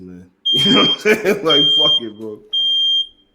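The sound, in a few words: alarm beeping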